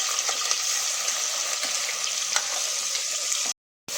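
Chopped onion and tomato go into a hot tempering of mustard seeds, cumin and dried red chillies for sambar, setting off a steady, bright sizzle with faint stirring ticks that cuts to silence briefly near the end.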